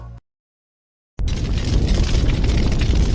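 A sudden cut to silence is followed by a massive, sustained roaring blast from an asteroid impact, loud and continuous with deep rumbling throughout.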